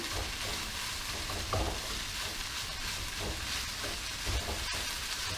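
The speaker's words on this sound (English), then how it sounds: "So once you add the rice, you're just going to try to blend it in as best as you can." Rice is stirred into vegetables in a hot frying pan, giving a steady close sizzle and frying hiss with soft scraping stir strokes and no talking.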